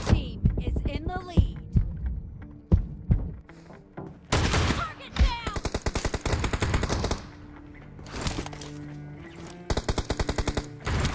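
Gunshots in the mobile battle royale game BGMI: bursts of rapid automatic fire alternate with single shots and short pauses, loud and close, with an electronic hum beneath.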